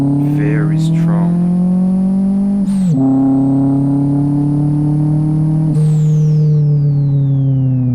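A Volkswagen Saveiro pickup with a 1.6 single-turbo engine in the racing game Live for Speed, pulling at full throttle in second gear: loud, close, rising engine drone with two sharp gear-shift dips and recoveries.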